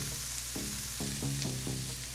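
A corn tortilla toasts and sizzles in a pan with a steady frying crackle and a few soft scraping bursts as it is flipped, close and alone.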